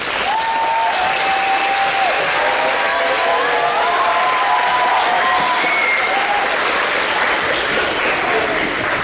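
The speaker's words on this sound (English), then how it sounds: "let's give them a round of applause" Sustained audience applause at a middle school band spring concert, a dense steady wash of clapping from a large crowd with faint voices mixed in, lasting throughout.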